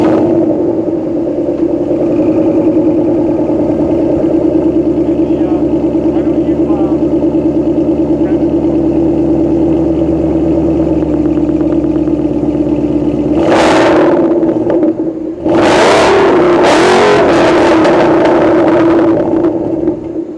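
A supercharged Ford Mustang GT making around 600 horsepower idles with a deep, steady rumble, then gets several sharp, loud revs near the end, each flaring up and dropping back to idle close by.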